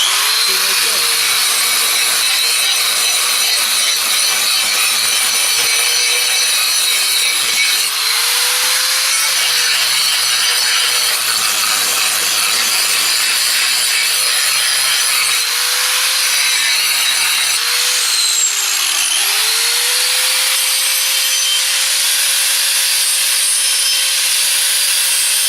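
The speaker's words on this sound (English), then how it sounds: "I get myself a little grinder, and I have a grinding wheel on it" A small grinder fitted with a grinding wheel scrapes old cement off a tile on a concrete floor, a loud, continuous whining grind that rises and dips in pitch as pressure changes.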